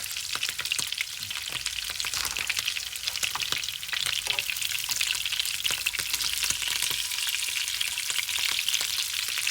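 Cretan sausage fries in olive oil in a pan, a dense, steady sizzle with constant crackling pops, close and fairly loud throughout.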